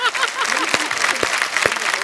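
Studio audience applause on a Hindi comedy talk show set, a steady dense wash of clapping filling the whole stretch, with a few sharper louder claps standing out and voices faintly mixed in.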